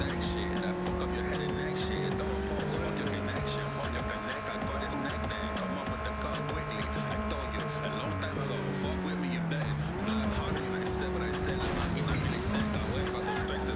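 A car races at high speed in the video game Cyberpunk 2077, its loud engine droning steadily with shifting pitch, swelling and dropping as it speeds along without letting up.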